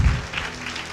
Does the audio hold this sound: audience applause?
yes